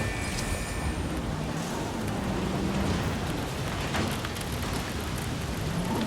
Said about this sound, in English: Pretty lengthy storm